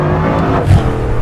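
A Bugatti Mistral launching hard from a standstill with a burst of tyre spin, its engine a loud, continuous close roar that swells briefly mid-launch.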